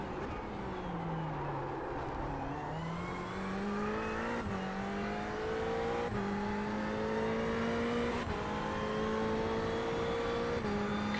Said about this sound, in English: I couldn't hear you over the sound of the engine